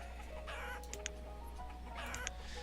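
Chickens cluck in the village-building game Banished, giving a few soft clucks and short calls at low level over a steady ambient hum, with no talk.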